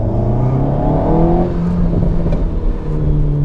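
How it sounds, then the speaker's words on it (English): A 2018 Alpine A110 with a turbocharged four-cylinder engine revs loudly and close, the engine note rising and falling steadily with exhaust burble throughout. "we even get a crackle and a burble from the exhaust system, and from a 4-cylinder turbocharged engine"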